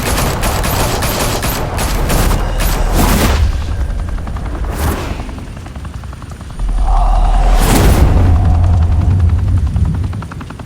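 Rapid bursts of gunfire from the Batman: The Telltale Series video game crackle loudly over a droning helicopter-like rumble, with a heavy boom and a second volley near the end.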